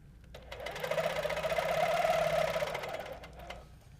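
A sewing machine runs steadily while stitching a continuous curve quilting pattern with curved rulers, a smooth, sustained whirring hum of about three seconds that rises and fades.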